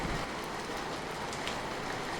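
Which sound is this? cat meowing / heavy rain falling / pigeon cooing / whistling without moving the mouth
heavy rain falling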